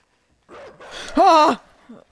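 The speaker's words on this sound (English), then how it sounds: "A dog making some pretty weird noises" A dog in the video game INSIDE lets out strange, strained vocal noises: a rising, warbling whine that swells loud for a moment after quieter rough sounds, then fades to a brief faint trailing noise.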